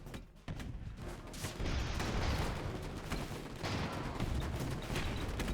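Suspendium chambers exploding aboard airships during a sky battle in Airships: Conquer the Skies, heard as a dense, continuous roar of booms and crackling blasts that swells louder midway and stays loud throughout, with no talk.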